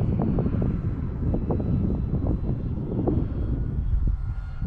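A slow low pass by an E-Flite T-28 Trojan RC airplane with gear and landing flaps down on a windy day, a steady engine drone mixed with heavy wind rumble on the microphone, continuous for several seconds.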